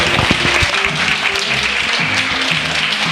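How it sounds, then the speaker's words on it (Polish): Audience applause for a young quiz winner at an evening event, loud sustained clapping with low murmuring voices underneath throughout. "Duże brawa dla młodego człowieka."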